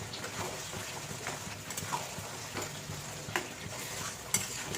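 Mutton with papaya, yogurt and Kashmiri chili sautéed in a pan, a continuous close sizzle broken by repeated scraping stirs of a spoon against the metal, with no voices.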